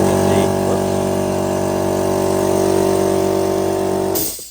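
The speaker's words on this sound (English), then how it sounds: "I prefer to blow it out with an air compressor or compressed gas" Loud, steady compressed-air blast with a strong engine-like drone, blowing out the filter of a Dyson V15 cordless vacuum, running continuously for about four seconds before cutting off abruptly.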